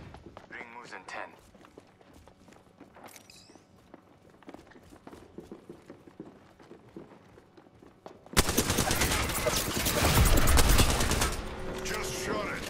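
Burst of gunfire in the battle-royale game Apex Legends, a loud dense volley breaking in late after quieter footsteps and movement, with a player's voice talking over the match.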